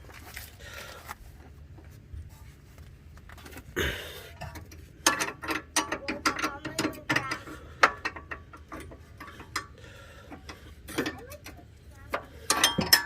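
A ratchet wrench works the sway bar link bolt on an Acura TSX with bursts of quick metallic clicks and clatter. The clicks come in uneven spurts with pauses between them, heard close up.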